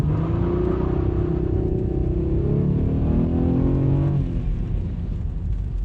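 A 1993 Ford Taurus SHO family sedan with automatic transmission accelerates hard toward 100 km/h, its engine note rising steadily and loud from inside the car, with a shift around four seconds before the revs climb again.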